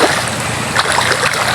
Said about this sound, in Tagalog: Ayan yung tubig, oh. Bahang baha.